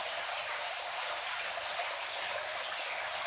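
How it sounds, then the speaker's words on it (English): Water pours steadily into a bucket as a continuous, even splashing rush, close and alone throughout, while a plant treatment for fish disease is dissolved in it. "So we're going to turn that into this bucket of water."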